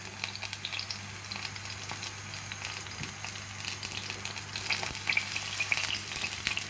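Chopped garlic sizzles steadily in hot oil in a pan previously used for frying cauliflower, a continuous crackling fry with a few soft clicks, growing slightly louder toward the end, with no talking.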